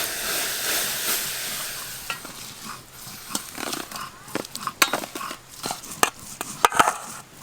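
Semolina being stirred into hot water in a pan, giving close, irregular scraping and sloshing sounds with soft sizzling hiss, louder clatters toward the end.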